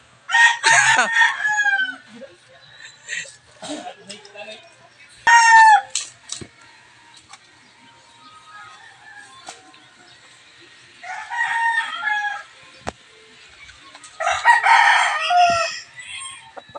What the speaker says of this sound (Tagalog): Chicken, chicken, chicken, chicken.